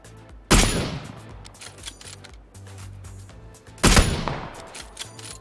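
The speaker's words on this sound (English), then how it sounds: "so I need to start shooting back." Gunfire exchange in the PUBG video game: two loud, sharp bursts of rapid shots about three seconds apart, each ringing out with a decaying tail over quieter game ambience, no speech.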